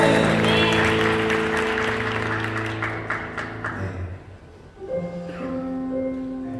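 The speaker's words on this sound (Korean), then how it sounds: "우리 예배 받으실 주님께 영광의 박수를 드립시다." Congregation applause during a Korean church worship service, clapping under sustained organ or keyboard chords that fade and shift partway through.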